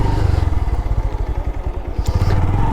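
Bajaj Pulsar motorcycle engine running while being ridden in fifth gear, a steady close thrumming exhaust pulse with rhythmic low thumps and slight revving, heard alone without talk.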